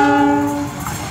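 An empty coal freight train hauled by a locomotive passes close and loud, its horn blaring a sustained chord that fades into a rumbling roar of rolling wagons.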